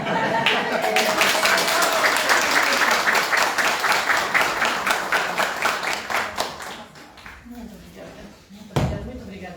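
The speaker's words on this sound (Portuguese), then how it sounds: "e ainda ganho aplausos" Applause fills a city council chamber in session, many people clapping loudly and steadily before it thins out and fades, with a single sharp knock near the end and voices murmuring underneath.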